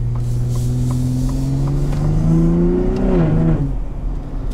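Engine of a 2022 Ford F-150 Raptor revving up through the gears using the paddle shifters, a loud, smooth rising drone that climbs steadily, then dips at a shift and fades, heard from inside the cab.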